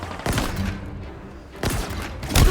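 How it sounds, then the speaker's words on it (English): Grenade blasts in the shooter Halo Infinite: two loud booming bursts about a second apart, each with a short rumbling tail, and a heavy thump at the close, with no talk. "Throwing grenade."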